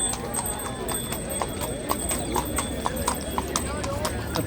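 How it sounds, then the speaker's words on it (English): On a street in Seville, a horse walks past with a steady, clear clip-clop of hooves on pavement, with a person speaking over it. "Oh, horse."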